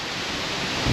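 Heavy rain and strong wind at a motorcycle campsite, a dense, constant roaring hiss that swells slightly at the end, with no voices.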